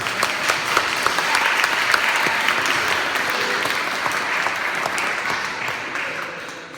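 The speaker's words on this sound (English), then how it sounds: "let's first give a round of applause to the people who served the food and made the food." Sustained, full audience applause at a dinner speech in Oxford's Divinity School, honouring the people who made and served the food; steady, dense clapping from a sizeable crowd that holds for several seconds before beginning to ease off.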